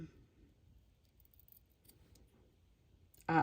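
Small scissors cut card for handmade greeting cards, giving faint, quiet snipping and rustling, then one sharp, louder snap at the very end.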